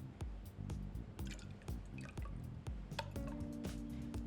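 Mango nectar poured into a measuring jigger for an at-home cocktail, a close, steady liquid stream with gurgles and drips, rising in pitch as the vessel fills.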